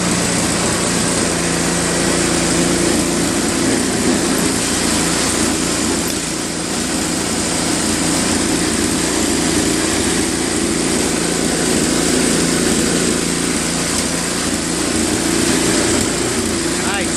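A Tecumseh Snow King engine on a Craftsman snowblower with tank-style track drive runs at a steady, loud drone, close by, with a voice speaking over it.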